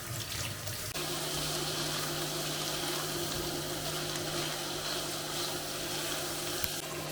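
Water runs steadily as soaked rice is strained through a sieve in a kitchen, a continuous close rushing flow with a faint hum beneath it.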